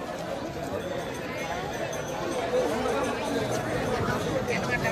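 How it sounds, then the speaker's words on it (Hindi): Dense crowd chatter at the Ayodhya Ram Mandir temple, a steady, loud babble of many voices and shuffling movement filling the whole stretch without pause. "कितनी भीड़ है भाई"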